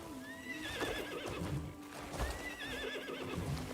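A horse in the Crimson Desert video game gallops with steady clip-clopping hooves and lets out repeated loud, wavering neighs and whinnies over a busy game soundscape.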